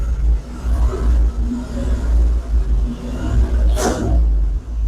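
A 1970 Ford F250 dually truck engine with a sticking throttle revs loudly and continuously, a heavy close-up rumble that swells and surges without letting off.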